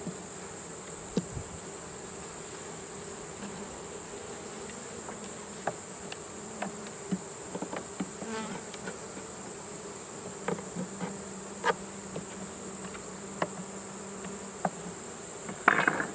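Honey bees hum around an open queenless hive outdoors, a faint, steady drone with occasional individual bees passing close and light taps and clicks scattered throughout, and no talking.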